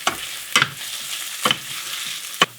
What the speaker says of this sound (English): Now I'm going to add my garlic and cook them both for a couple more minutes